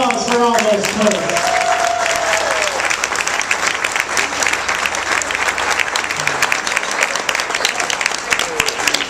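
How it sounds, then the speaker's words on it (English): Wedding guests give loud, sustained applause after the toasts, with a full crowd clapping steadily throughout. A voice and scattered cheers are heard briefly over the clapping near the beginning. "a round of applause for all those toasts"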